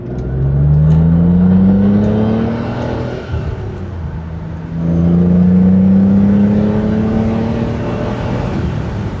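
A V12 BMW E31 850i accelerating briskly on an open road, engine note climbing through two rising pulls separated by a brief dip at the gear change, loud and steady from inside the car.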